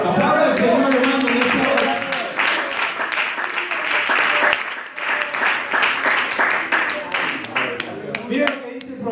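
Church congregation applauding during an evangelical sermon in Spain, loud dense clapping that swells and continues for several seconds, with the preacher's voice heard over it at the start and end.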